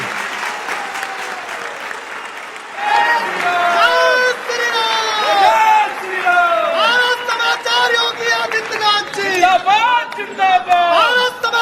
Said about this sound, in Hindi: ये तालियां बजती रहनी चाहिए